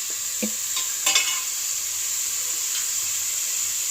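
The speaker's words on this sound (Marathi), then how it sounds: "तळसून घेता." Mutton liver frying over low heat in a pan, with a constant hissing sizzle and a few brief clinks and scrapes of stirring near the start.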